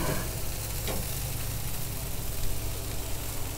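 Meat sizzling over an open fire on a smoker grill, a steady close crackling hiss with a low rumble underneath and no talk.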